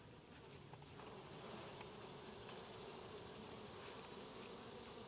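Honey bees buzz in a dense, steady drone around a hive frame as they are brushed off during a summer honey harvest, faint and continuous throughout.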